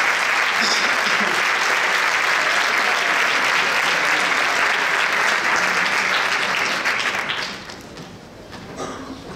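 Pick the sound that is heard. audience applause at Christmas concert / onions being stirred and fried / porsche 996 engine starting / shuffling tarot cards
audience applause at Christmas concert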